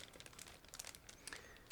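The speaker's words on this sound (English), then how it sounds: "Next, I'm opening another plastic bag." A plastic bag holding parts of a 1/9 scale Meng Kawasaki Ninja ZX-10R model kit crinkles faintly as it is opened, with short scattered rustles and crackles close by.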